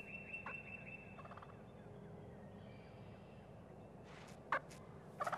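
Eastern wild turkeys outdoors: a soft, steady background with a sharp gobble near the end and a second burst of rapid gobbling right after it, both fairly close.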